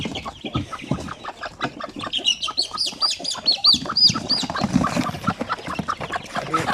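Chickens cluck steadily at close range, with one-month-old chicks among them and a rooster-like higher call breaking in partway through, busy and continuous with no talking.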